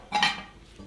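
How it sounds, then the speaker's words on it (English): A metal lid lifted off a cooking pot of beef and kidney stew, a short clanking chink of metal on metal followed by a faint scrape, close and alone. "Just get the lid off there."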